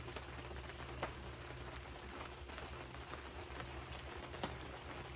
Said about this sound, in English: I'm just going to enjoy the rain.